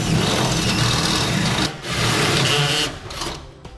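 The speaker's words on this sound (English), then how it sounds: "Now we'll use our step bit and we'll drill out our holes to a 9/16." A drill buzzes loudly in two bursts, cutting 9/16-inch holes through the sheet metal bed of a 2014 Ford F-250 pickup with a step bit, then a brief final whir as it winds down.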